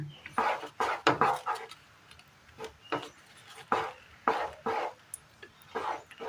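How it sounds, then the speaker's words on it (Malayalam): A spoon scrapes and knocks against a pan while a thick Kerala sweet banana mixture with turmeric is stirred, giving a run of short, irregular strokes at close range. "ഇനി ഇത് കൈവിടാതെ നമ്മൾ ഇളക്കിക്കൊണ്ടിരിക്കണം."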